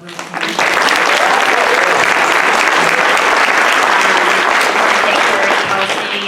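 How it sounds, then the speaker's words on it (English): A crowd bursts into loud, sustained applause that continues steadily to the end. "Let's give a big round of applause for Vanessa"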